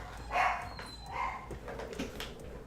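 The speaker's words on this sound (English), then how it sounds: "and my dogs are loud." Several loud dogs bark in bursts somewhere nearby, likely set off by people walking past, each bark clear over a muffled room background.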